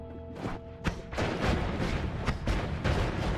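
Explosions from a cluster bolt spell in the game Noita, a rapid series of booming, crackling blasts, loud and overlapping, bursting every fraction of a second with no speech.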